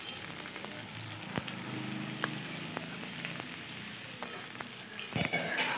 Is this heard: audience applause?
no